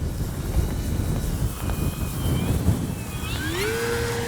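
An FMS P-47 Thunderbolt RC model warbird flying outdoors on a windy day, its electric motor whining at a steady distance and rising in pitch as it passes, over constant wind rumble on the microphone.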